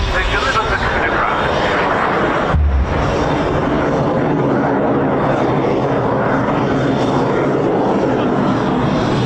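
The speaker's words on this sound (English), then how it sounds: "They deliver the Chinook." Loud aircraft noise at an RAF Cosford air show, with a Chinook helicopter flying a display pass, a steady broad roar across the whole stretch with commentary voices talking over it.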